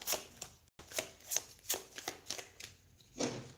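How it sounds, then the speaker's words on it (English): A deck of tarot cards is shuffled by hand in a series of quick, crisp riffling bursts, close and fairly quiet, with short pauses between them. "I have to sort of shuffle these separately."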